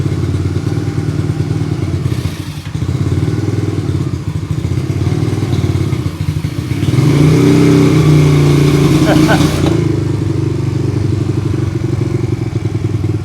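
A 1981 Honda CM200T TwinStar motorcycle, mid-rebuild with its fuel tank held on by hand, idles and putts around a yard, a steady low engine rumble that swells louder partway through.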